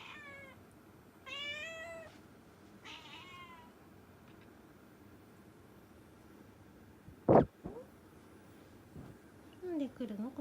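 Indoor cat meowing: several short, faint meows in quick succession early on, a sharp knock midway, then another soft meow near the end over quiet room hiss.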